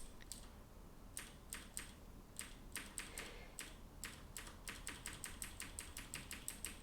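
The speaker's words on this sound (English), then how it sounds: "That's a lot of typing." Rapid clicking of computer keys in bursts of quick, light taps, fairly faint and close, with short pauses between runs and no talking.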